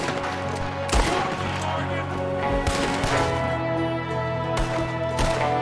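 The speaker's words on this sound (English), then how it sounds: "There's another one shooting from the window." Dense gunfire fills a shootout in Red Dead Redemption 2: repeated sharp close shots crack over a continuous roar of game music and ambience, arriving in several loud bursts spread across the stretch.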